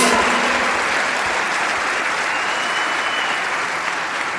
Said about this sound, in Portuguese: Quem recebe aí, dá um aplauso ao Senhor Jesus